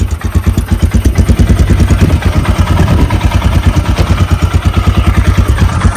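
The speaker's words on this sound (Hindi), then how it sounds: "अब यहाँ से बाइक अपनी कॉल स्टार्ट करनी है" A motorcycle engine starts and settles into an idle on the Nainital road near Bhavali, parked in hot sun. The pulsing exhaust beat is loud, close and rhythmic, with fast, even firing throughout and no speech.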